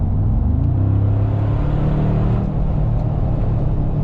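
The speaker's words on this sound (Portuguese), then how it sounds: "O carro esportivo com ronco, com escape" A Mercedes-AMG G63 with a 585 hp engine gives off a deep, steady exhaust rumble in Comfort mode, a continuous low drone heard close and loud with no talk over it.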